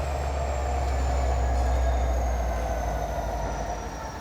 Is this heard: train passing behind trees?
yes